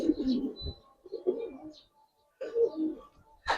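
A Giribaz pigeon coos close by in soft, throaty phrases, pausing briefly before cooing again.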